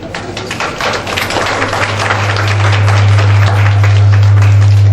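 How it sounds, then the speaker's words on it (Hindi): Audience applause at the inauguration of a workshop on protection of women from domestic violence, dense sustained clapping from a crowd that grows louder over a few seconds, with a steady electrical hum underneath. "जोरदार तालियां चाहेंगे सभी लोग।"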